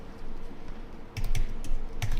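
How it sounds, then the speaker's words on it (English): Keys on a computer keyboard clatter in a few quick, light taps and short clusters over a quiet room hum, with no talking. "I do some simple typing here for you to see the file structure"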